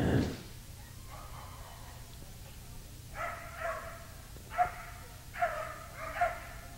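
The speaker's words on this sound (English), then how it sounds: "A Sheltie doggy." A Shetland sheepdog at a NADAC championship agility run gives five or six short, sharp barks in a quick series. The barks are faint and somewhat distant over a quiet background.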